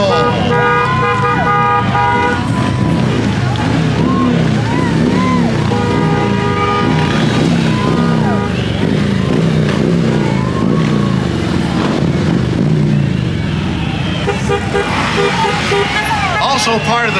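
Motor patrol vehicles pass in a St. Patrick's Day parade in Henderson, Nevada, with engines and horn toots over a dense, loud street crowd. Cheering and overlapping voices run throughout.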